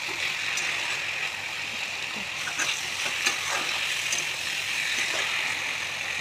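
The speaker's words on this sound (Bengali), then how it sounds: "বেগুনগুলো দিয়ে ভালোভাবে কষাতে হবে মশলাটাকে।" Fried eggplant and potato sizzle steadily in spice masala in a pan, a close continuous hiss with occasional scraping stirs.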